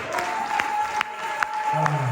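A church congregation clapping in praise of the Lord, brief scattered applause with a few distinct claps over a sustained hum, with voices present in the room.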